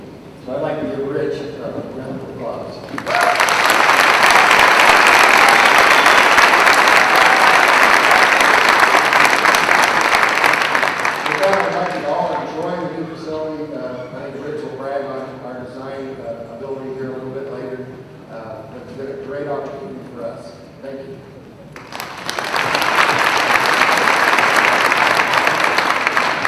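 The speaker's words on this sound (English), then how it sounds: "I'd like to give Rich a round of applause." Loud audience applause at a high school ribbon cutting ceremony, a sustained crowd of clapping that fades under a speaker talking in a hall, then swells again near the end.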